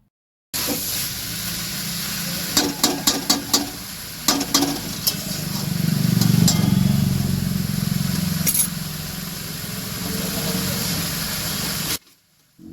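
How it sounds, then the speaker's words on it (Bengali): Jackfruit tossed and stirred with spices in a hot pan on a gas flame, a steady sizzling hiss with scattered scraping clicks early on, then a fuller frying roar through the middle before cutting off near the end. "এখন দেখতে পাচ্ছেন এঁচোড়গুলোকে বেশ ওলট পালট করে মশলার সঙ্গে মাসি ভালোভাবে মিশিয়ে দিচ্ছে"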